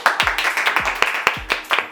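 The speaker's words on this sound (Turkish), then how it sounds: "Alkış" A few people clap at the start of a Turkish "what's in my box" challenge with friends, giving sparse, irregular claps of about eight sharp hits, fairly close and fairly loud.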